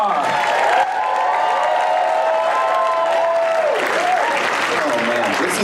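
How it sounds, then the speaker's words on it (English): A comedy club audience at Lincoln Hall applauds and cheers as a comedian is welcomed to the stage, dense sustained clapping mixed with crowd noise and a loud voice over the top. "Please, let's get the applause going right now. Get it going. I want you to start clapping for my friend."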